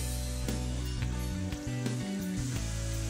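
Sliced onions fry in oil in a pot until brown for a Lahori murgh cholay, a soft continuous sizzle under a low steady background hum.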